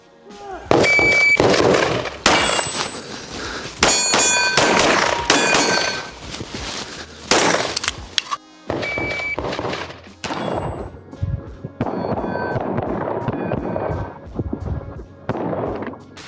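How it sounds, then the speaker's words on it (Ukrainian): Pistol shots fired at steel targets during practical shooting practice: a rapid series of loud, sharp reports with metallic ringing impacts, coming in clustered bursts with short pauses between them. "обстрілюємо такий самий порядок мішеней, е, таку саму кількість пострілів"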